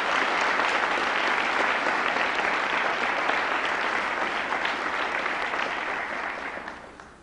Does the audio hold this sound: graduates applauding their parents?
yes